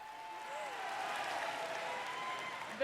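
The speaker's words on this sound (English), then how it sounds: "That's probably the first real cheer the audience has given the entire night." An audience at BlizzCon 2023 breaks into cheering and applause, a broad wash of clapping and crowd noise that holds steady, with a voice speaking over it.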